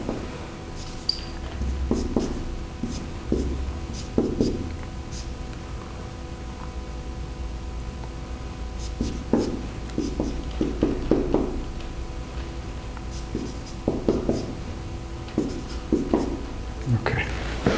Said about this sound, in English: Let me write this and then explain.